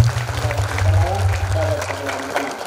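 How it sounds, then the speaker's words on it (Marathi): An audience applauding in welcome at a religious bhajan gathering during a harinam week celebration, a steady wash of claps under a voice speaking over it. "टाळी वाजवून स्वागत करा"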